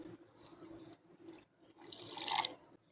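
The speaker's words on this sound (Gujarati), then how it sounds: "તો હવે આપણે તેની અંદર અડધા ગ્લાસ જેટલું પાણી ઉમેરીશું" Water is poured into a mixer jar over ground ingredients in a home kitchen, a soft trickling splash that rises and grows brighter toward the end, close but quiet, with no talking.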